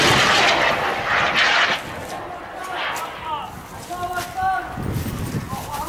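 A rocket fired at Tal al-Sheikh Yusuf hill roars out as a loud, broad rushing blast over the first couple of seconds, then fades while voices talk nearby.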